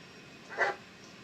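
A single short dog bark from the Blair Witch video game, moderately close and standing alone over a faint background hiss.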